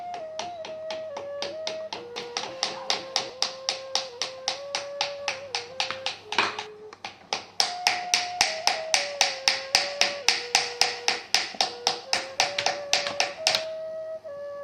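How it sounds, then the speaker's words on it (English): Steady rhythmic slapping of a wooden paddle against the top of a leather-hard clay teapot as it is paddled inward, a long run of crisp, evenly spaced taps, close and fairly loud, with no talk. "she then works on the interior seam and paddles the top of the teapot inward"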